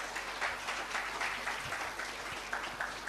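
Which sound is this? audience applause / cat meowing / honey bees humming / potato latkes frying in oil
audience applause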